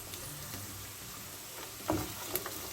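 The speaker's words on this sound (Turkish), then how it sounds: "Havucumuzu da yaklaşık bir 5 dakika kadar soteleyelim." Finely chopped carrots sautéing in a pan with caramelized onions, a soft continuous sizzle with a few brief clinks of stirring near the end, fairly quiet and with no talk.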